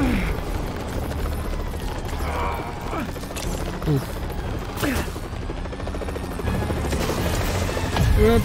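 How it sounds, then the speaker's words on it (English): A stolen helicopter in the Spider-Man PS4 video game roars with a steady rotor drone, layered with game booms, clanks and mechanical effects over the whole stretch while a voice talks faintly underneath. "They're stealing a chopper."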